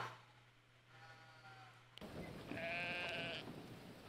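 Sheep bleating in the video game Brothers: A Tale of Two Sons, a wavering bleat that rises clearly above an ambient game background after an abrupt shift in the scene's sound.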